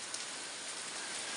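Steady rain falls in a hill village in Uttarakhand during the monsoon season, an even, dense hiss of drops on surfaces with no pauses, close and continuous.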